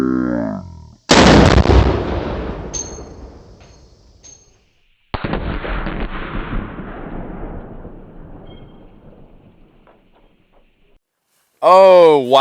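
A gunshot fired into a Tesla car rings out as a single loud, sharp blast with a long decaying echo, followed about four seconds later by a second heavy impact and trailing reverberation; a voice speaks briefly at the start and end.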